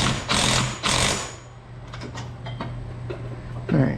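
Bolts on the rock sliders of a Polaris General XP 1000 being tightened with a 15mm tool, two loud whirring bursts up front, then softer irregular clicks and scrapes nearby.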